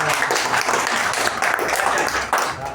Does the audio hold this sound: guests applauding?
yes